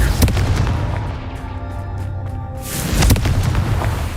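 A Confringo blasting spell explodes in the Hogwarts Legacy video game, with a loud broadband burst at the start and a second heavy blast near the end, rumbling low debris and crackle between them.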